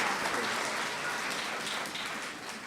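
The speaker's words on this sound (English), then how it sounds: "Now you can clap." An audience at a cultural music celebration in Buffalo claps steadily, a fairly soft, even wash of applause heard from some distance without talk.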